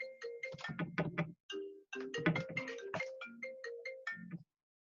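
Phone ringtone sounds during a live class: a melodic electronic tune of quick, bright notes, fairly close and clear, playing alone for about four and a half seconds before cutting off.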